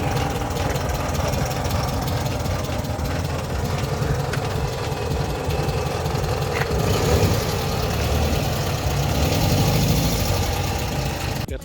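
A 1994 Volkswagen with a 1200cc engine runs steadily for the whole stretch, a loud, close, continuous idle rumble with a rough, knocking texture and no talk over it.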